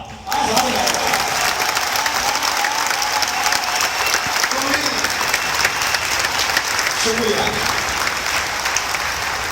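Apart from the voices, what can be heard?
audience applause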